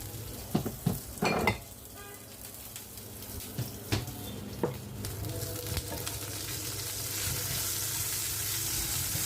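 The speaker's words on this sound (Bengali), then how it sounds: "দিয়ে দিচ্ছি এখানে চার পাঁচটা শুকনো মরিচ তো সবগুলোকে একটু তেলে ভেজে নিচ্ছি" Yardlong beans and a few dried red chillies fry in oil over medium heat, a steady close sizzle broken by a few sharp clinks and scrapes of stirring, with no talking.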